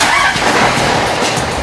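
An oyster-harvesting boat's engine at a Tongyeong oyster farm starts and runs with a loud, close, rough mechanical roar that holds steady for a moment.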